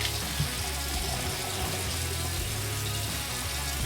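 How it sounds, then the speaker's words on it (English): A razor is rinsed under a running tap during a grooming session, with a steady rush of water that continues for about four seconds with no talking. "Let's rinse that off."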